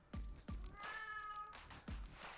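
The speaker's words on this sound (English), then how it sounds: "Yep, I hear you, cat." Several distinct cat meows, loud and close, come in quick succession, one drawn-out and wavering, in a quiet indoor room with no talking.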